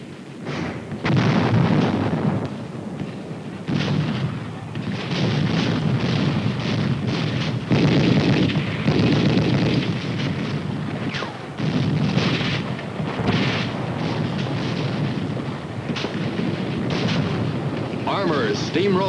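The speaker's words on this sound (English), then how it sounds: "We traded shell for shell, pounded them with mortar, and pushed on." Mortar and artillery shells firing in combat, a dense, continuous barrage of loud booms and crackling bursts that barely lets up, with a voice talking over it.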